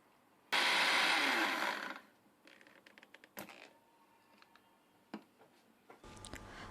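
A mixer grinder whirs loudly for about a second and a half, grinding urad dal, dried red chillies and curry leaves for idli podi, then stops, leaving scattered clicks and taps of the jar and lid.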